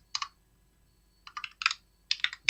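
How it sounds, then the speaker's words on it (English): Quiet typing on a computer keyboard, with short bursts of key clicks separated by pauses and a final cluster of keystrokes near the end. "it's just as easy just typing away whatever it is I want"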